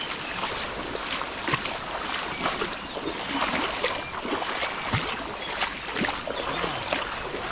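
Floodwater rushes past in a steady, close, broadband roar with uneven surges.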